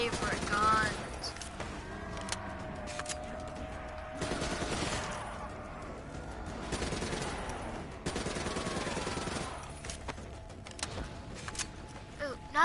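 Video game gunfire rings out in repeated heavy bursts and rapid volleys, loud and close, mixed with other in-game sounds.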